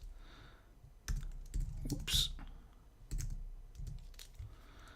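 Keystrokes on a computer keyboard entering a search, coming in quick clustered bursts of clicks with short pauses between, close and fairly quiet.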